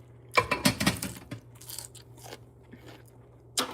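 Crisp bites and crunchy chewing on an undercooked green bean, several sharp crunches in quick succession close to the mic, then quieter chewing and a final bite.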